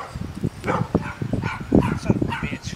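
A puppy yips and barks in short bursts, close by and mixed in with people talking over it.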